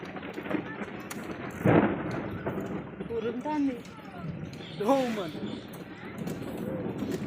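A crack of thunder rolls out over a steady hiss of falling rain, with voices talking and calling nearby.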